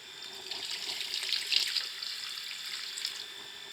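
Water pours steadily into a pot of aloo chicken curry, a continuous close hissing trickle with a slight rise in the middle and no talking.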